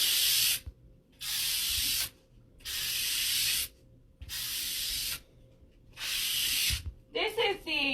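Super fine Surf Prep pad buffing a painted surface, five steady broadband scrubbing strokes of about a second each with short pauses, close and fairly loud, followed by a brief voice at the end.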